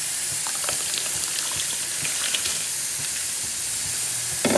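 Pot of water coming to a boil on a home kitchen stove for rice in a dal recipe, a steady steamy hiss with faint bubbling throughout, close and alone.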